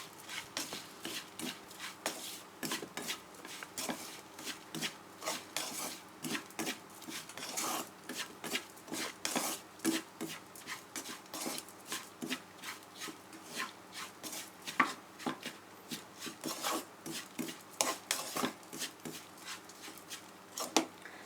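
Dried chillies, a mix of large dried pods and smaller hotter ones, being dry-roasted in a pan over low heat, a steady quiet rasping and scraping as they are stirred and shuffled about.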